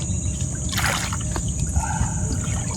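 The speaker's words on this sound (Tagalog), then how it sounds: "Ay, malakas ang agos ano." Strong river current flows steadily during a fishing outing, a continuous rushing wash with low rumble and occasional splashy bursts, close by and without talk.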